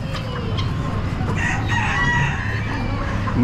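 Chickens crow and cluck at an Amish animal auction, with Americana, silver laced wyandotte, buff brahma and lavender birds penned together; a rooster's crow rises over continuous flock clucking and barn noise, fairly close.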